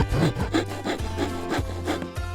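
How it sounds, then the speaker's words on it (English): A hand rasp scrapes back and forth over a wooden blank in rhythmic, close strokes, roughly shaping and rounding its edges, with no talking. "We take a rasp and use it for initial processing."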